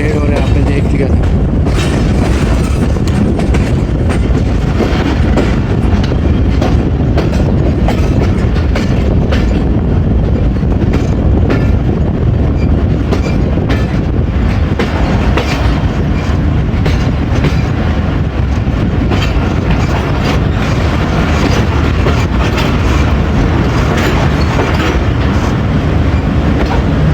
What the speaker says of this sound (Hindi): जी अटक सिटी जंक्शन पहुंच गई जी ट्रेन जी।